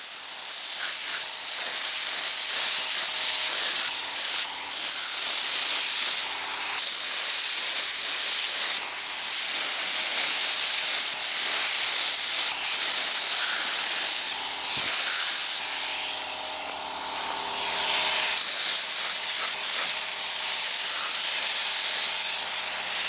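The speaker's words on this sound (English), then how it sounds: "Now I'm out here finna spray this here." Spray gun shooting epoxy primer onto bare metal of a Camaro, a loud close continuous hiss that pulses as the trigger is pulled and briefly eased off, with no talk.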